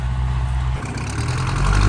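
A tractor engine chugs steadily while plowing a rice field, a loud continuous low rumble that deepens and grows rougher partway through as the load changes, with no voices.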